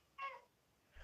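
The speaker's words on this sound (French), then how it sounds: "C'est un chat ou une chatte?" A cat gives a short, clear meow, then a second fainter meow begins just as the moment ends, with quiet room tone around it.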